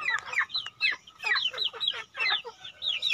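Pet chickens, grown from chicks, cluck and squawk in a busy, close series of rising calls with brief pauses between bursts, no talking over them.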